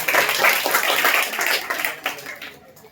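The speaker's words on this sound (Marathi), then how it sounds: "त्यांच्यासाठी पण एकदा जोरदार टाळ्या वाजवा" A burst of crowd applause at a kirtan performance, dense clapping that fades over a few seconds, with voices mixed in.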